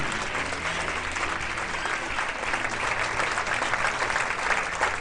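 Worshippers at an evening church service in Rancagua, Chile clap loudly for Christ, a thick, continuous applause holding steady without pause and no speech on top.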